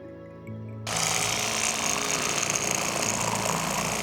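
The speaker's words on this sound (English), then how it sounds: "I just started using this electric knife, and I really like it to take the fillets off the backbone." An electric knife takes fillets off the backbone of a northern pike. After a brief quiet moment its motor switches on into a loud, steady, rattling buzz that keeps going without any talk.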